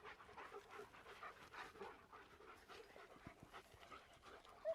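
Dogs panting, rapid, rhythmic breathy pants repeated steadily, faint and close, with no talking over them.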